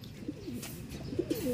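Soft, low pigeon coos, a few throaty calls rising near the end over a faint background hum.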